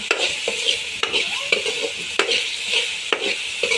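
Onion sizzling in a pan for pasta as a spoon stirs it, a close steady hiss punctuated by regular scraping and tapping strokes of the spoon against the metal.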